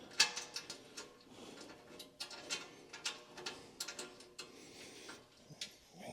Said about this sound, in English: Trying to get this bolt started.